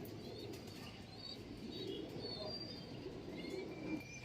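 Racing pigeons circling overhead during a training flight at Lucena, soft cooing mixed with light wingbeats and faint chirps, fairly distant and quiet, steady over a low outdoor background.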